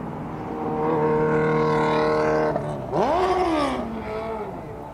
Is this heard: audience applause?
no